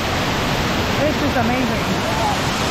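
Rutledge Falls waterfall, where warm water pours into a swimming spot, makes a steady, close rushing roar throughout, with a person speaking briefly over it.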